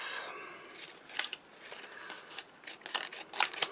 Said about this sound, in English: so I can cut the top off